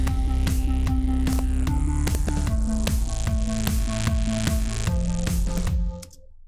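A GarageBand synth track plays back after its notes are quantized, with a steady pulsing beat of regular percussive hits under sustained synth chords that shift a few times, then cuts off abruptly near the end.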